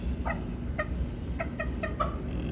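Gamefowl hens, crosses of Gilmore, Kelso and Sweater lines kept for breeding, give short repeated clucks in small bursts over a steady farmyard background, at moderate distance, with no talking.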